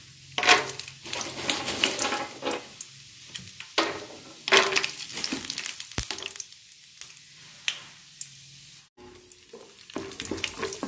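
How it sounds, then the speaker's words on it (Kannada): Peanuts roasting in hot oil in a pan for a winter chitranna (lemon-style rice dish), giving a steady close sizzle with stirring clinks and scrapes throughout. "ಕಡಲೆಕಾಯಿ ಬೀಜನ ಸ್ವಲ್ಪ ಹುರ್ಕೊಳ್ಳೋಣ."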